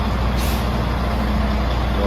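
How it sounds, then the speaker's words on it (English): A Volvo truck pulls into a new shop, its loud diesel rumble filling the space, with a short high hiss of air brakes near the start, close and continuous. "I think it's the first time Volvo's ever pulled in the new shop."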